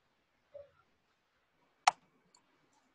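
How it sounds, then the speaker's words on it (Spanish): A single sharp computer mouse click saving a file in 3ds Max, crisp and close in a quiet room, preceded by a faint small tap. "pues le doy clic en este disquete"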